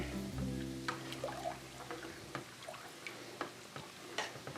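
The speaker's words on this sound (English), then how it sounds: "I'm just gonna kind of stir that around, loosen that pasta back up" A spoon stirring a big pot of tortellini pasta soup, quiet irregular knocks and scrapes against the pot over a soft background hum.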